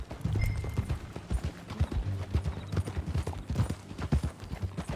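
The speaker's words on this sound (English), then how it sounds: "That a new horse?" Horse hooves clip-clop steadily in Red Dead Redemption 2 as riders move out together at an easy pace, the rhythmic beats close and clear over a low ambient bed, with a faint snort and no talk.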